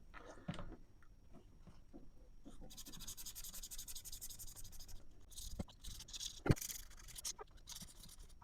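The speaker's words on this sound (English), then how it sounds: "So we've give this a sanding down." A 3D-printed Predator 2 dart is rubbed down with sandpaper, giving short scratchy bursts of abrasive strokes, close and fairly quiet, broken by small knocks and handling noises, with a sharp tap near the end.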